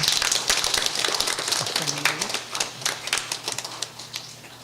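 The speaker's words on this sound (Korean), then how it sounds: "여러분 박수해 주시기 바랍니다" Applause from a church congregation during a Sunday service graduation ceremony: many hands clapping in dense, irregular bursts that fill the room, with a brief faint voice mixed in.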